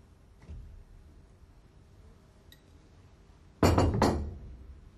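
Metal valve plug pulled from an Alfa Laval SRC single-seat valve during maintenance, giving a sudden loud clattering clink near the end, after quieter faint handling knocks, with no talking.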